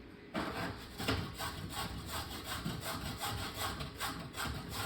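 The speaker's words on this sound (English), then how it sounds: "I'm going to grate up my carrot here" A very large carrot is rubbed briskly against a grater, producing a close, rhythmic rasping with about eight quick scraping strokes in a row.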